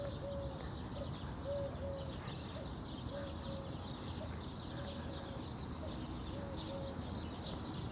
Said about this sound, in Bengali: ঘুঘু পাখির ডাক